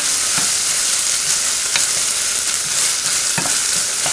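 Onion and soffritto sizzling loudly in a pan for bolognese sauce, a dense continuous frying hiss close up with a few scraping stirs from a utensil and no voices.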